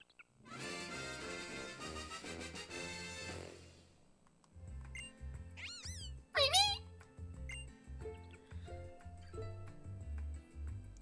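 The fire-type cat Pokémon Litten meows in a Pokémon game, giving short electronic cries over looping game music and menu chimes. The cries rise clearly above the background.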